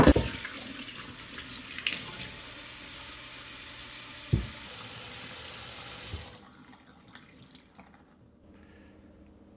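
Water runs steadily down a kitchen sink that was just unclogged with a pressure washer. The drain gurgles for about six seconds, with a few small clunks, and then goes quiet to a faint trickle.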